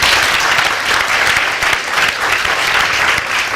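Audience applause in a TV studio on the RTB show Le Samandé, dense and loud, continuous steady clapping throughout with no pauses.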